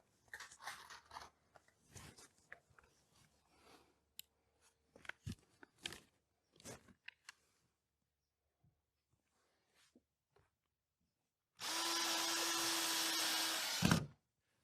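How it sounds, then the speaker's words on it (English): Power drill driving a screw into a drywall sheet, a steady loud whir of about two seconds alone after scattered handling clatter and taps. "There's a little gap there, so I'm going to snug that up and stick a screw in."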